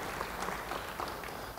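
Congregation applause at an Indonesian church service fills the whole moment, a dense, steady wash of many hands clapping at even loudness with no pause.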